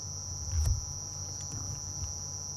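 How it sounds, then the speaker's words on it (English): A cicada's stridulating drone carries on as a steady, thin high tone during a night safari drive in the African bush, faint but constant, with a brief low thump partway through. "loud stridulating drone"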